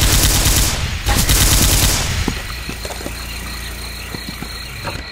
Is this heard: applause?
no